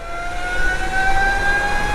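A Burromax HRS electric pit bike riding along, its motor giving a steady rising electric whine over wind and road rumble, loud and close, with no voices.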